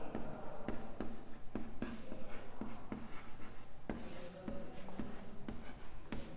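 Chalk or a marker writes on a board in quick, regular strokes and taps, several per second, close and fairly quiet, with no talking over it.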